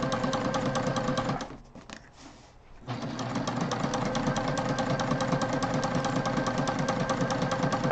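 A sewing machine runs basting stitches along a backpack, a steady continuous mechanical whir that drops out briefly near the two-second mark and then resumes, close and loud with no talk.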